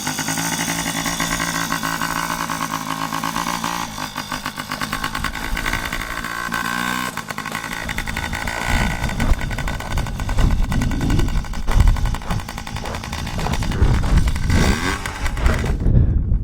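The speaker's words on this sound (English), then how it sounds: "let Dave see if we can kick it and get it started. Ooh. Fire right up" A motorcycle engine is kick-started and fires up, settling into a loud, steady close-up idle, then shifting to a rougher, throatier running note with uneven revving pulses.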